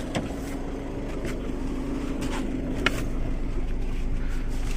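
A high-mileage Volkswagen Vento diesel car idling while parked outside, a steady low engine rumble with a faint hum and a few light clicks, heard nearby with no speech.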